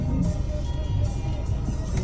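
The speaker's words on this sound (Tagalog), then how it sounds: "Super traffic." A car engine rumbles steadily, close and continuous, over dense road traffic, with a low drone and no distinct pass-bys.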